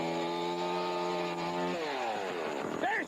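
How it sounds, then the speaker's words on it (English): A chainsaw roars loudly in a comedy commercial set in snowy Derby, its engine droning steadily and then revving and bending in pitch near the end, with no talking. "Oh no, not Chainsaw Chuck again."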